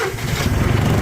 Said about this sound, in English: known as a big mean green John Deere tractor